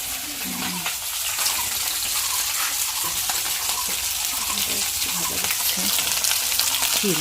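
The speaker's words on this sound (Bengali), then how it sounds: "কাঁচা লঙ্কা পেঁয়াজ দিয়ে মাছটা ভাজা করি।" Constant hissing sizzle of fish frying in hot oil on a gas stove with green chillies and onion, steady and close, with faint bubbling crackles throughout.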